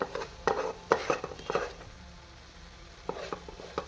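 Chicken masala fry being stirred in a pan, with several close scraping strokes of a utensil over a soft sizzle, a quieter pause in the middle, then more stirring toward the end.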